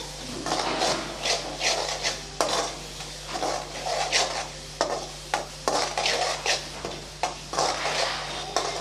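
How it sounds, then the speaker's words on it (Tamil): Mustard seeds, fenugreek and chilies sautéing in a pan for tomato pickle, heard as a close sizzle broken by repeated rhythmic scraping of a spoon against the pan, with no talk. "கடுகு வெந்தயம் மிளகாயை சேர்த்துக்கலாம் சேர்த்து நல்லா வதக்கி விட்டுறலாம்"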